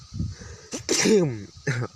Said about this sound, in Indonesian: maaf ya, saya bersin lah.